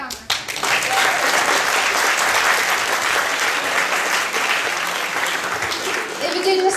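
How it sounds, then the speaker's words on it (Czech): An audience bursts into sustained applause, a dense continuous patter of many hands that swells quickly and holds steady, with a few voices surfacing near the end. "ale stejně se zatleskáme"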